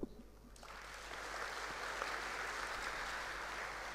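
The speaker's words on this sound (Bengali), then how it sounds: "আমরা সবাই একসাথে করতালির মাধ্যমে সবাইকে আমরা কংগ্রাচুলেট করতে পারি" Crowd applauds at a student award gathering honouring top-scoring pupils, the clapping swelling from a quiet start into a steady, dense, fairly distant wash that holds to the end.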